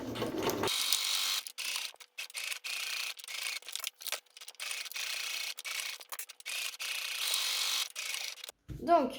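A sewing machine stitches the lining seams of a waterproof zippered pouch, a fast whirring hum running in bursts broken by short pauses, close and fairly loud, with brief handling sounds at the start and end.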